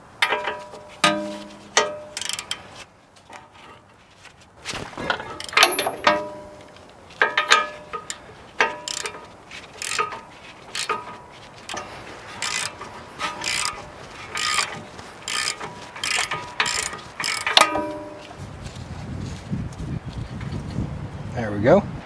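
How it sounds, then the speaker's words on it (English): A ratchet fitted with a 21mm socket clicks in repeated bursts of rapid pawl ticks while a bolt is broken free, loud and close, with people talking between strokes. "we need a 21mm socket to break this free"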